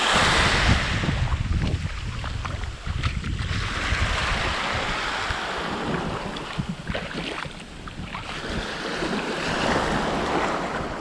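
Sea waves on a beach south of Sarti, Greece, a continuous loud wash of surf with breaking swells and wind, swelling and easing in turn with no talk.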